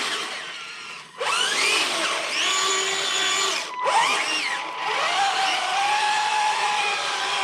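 Electric track motors on a modified SG 1203 RC tank whir steadily with clone 1060 ESCs, their pitch climbing and dipping in long runs as the steering speeds up. A brief cutoff breaks the sound midway.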